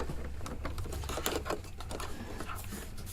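A Husqvarna Viking sewing machine stitches piping, a cord wrapped in a fabric strip, giving a steady close mechanical patter with small rhythmic variations and no talk.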